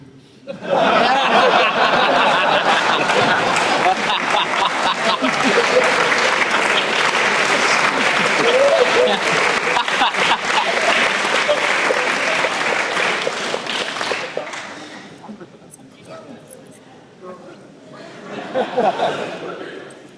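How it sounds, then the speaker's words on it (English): An audience applauds and laughs after a story at a talk on cancer survivors and trumpet excellence, loud sustained clapping and chuckles for about fourteen seconds, then fading to scattered sounds and a brief renewed burst. "Let's give a round of applause to this."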